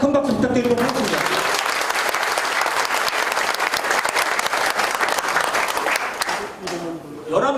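Loud, dense audience applause fills a groundbreaking-style opening ceremony for a Korean livestock cooperative's new headquarters, steady for several seconds before thinning out; voices are heard briefly at the start and end.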